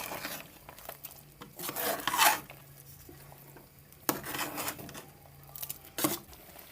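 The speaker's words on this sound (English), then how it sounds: "Giving my stew peas a stir" A spoon scrapes and swishes through a pot of stew peas with beef, chicken feet and chicken necks, close up, in a few separate strokes between quiet pauses.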